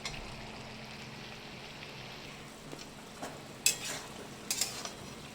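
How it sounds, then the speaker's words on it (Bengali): Boiled banana flower and potato being stir-fried in a pan make a faint, soft sizzle, with a few louder scraping and stirring clicks toward the end and no talking. "ভালো করে একটু কষিয়ে নেবো তারপরে চিংড়ি মাছগুলো দেবো"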